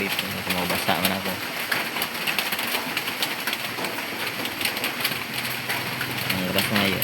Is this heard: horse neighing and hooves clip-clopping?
no